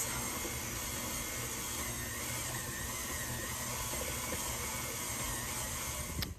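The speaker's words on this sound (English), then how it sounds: "Back in the stand mixer, lock it," Stand mixer kneading sourdough discard bread dough, a steady whirring motor drone with airy hiss, constant and fairly quiet throughout, ending with a brief clunk.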